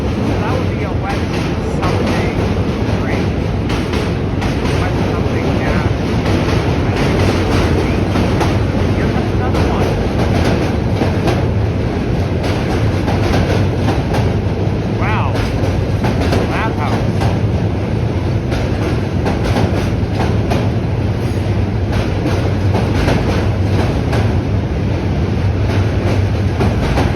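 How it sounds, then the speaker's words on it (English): A New York City subway train rumbling loudly and steadily across the Manhattan Bridge, close by, with continuous rail clatter and heavy low-end roar throughout, and a voice or two faintly underneath. "Oh, here comes the train even closer."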